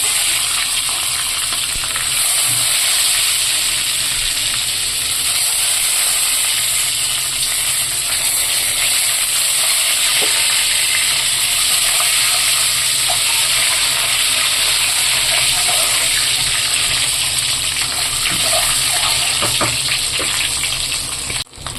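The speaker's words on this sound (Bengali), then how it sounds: "ডিমগুলো ভাজতে তো ওই তেলেতেই অল্প ভেজে দেবো" Eggs fry in hot oil with a loud, unbroken roaring hiss that holds steady for over twenty seconds, close up and dense, with occasional faint spatters and no talking.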